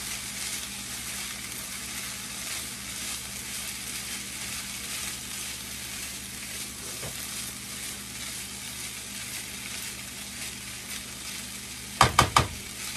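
Rice and mixed vegetables sizzle steadily in a pan for a quick pantry meal, a constant hiss held at an even level for the whole stretch, ending in a few sharp metallic clanks of utensil against pan.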